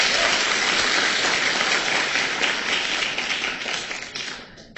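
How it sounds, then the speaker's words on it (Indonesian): Dense audience clapping at a seminar fills the room steadily for several seconds, a sustained wash of many hands that thins slightly toward the end. "Tepuk tangan dong buat Anda."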